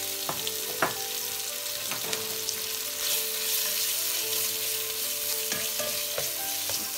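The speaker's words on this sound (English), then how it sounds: "Now I'm adding the sausages." Sausages frying in oil in a pan, a dense, steady hiss and crackle with occasional stirring clicks, close and even, alone without talking.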